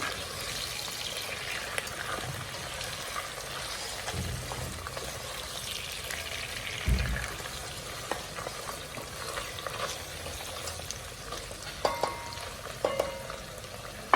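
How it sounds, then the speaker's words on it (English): Food frying in a hot pan with a soft continuous sizzle and intermittent scraping of stirring, close but fairly quiet, with no talk. "Oh, that's hot. Let's give it a good stir."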